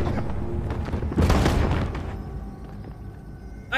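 A gunshot goes off in the Detroit: Become Human video game, one heavy booming blast that swells briefly over a dense, noisy game soundscape before fading back.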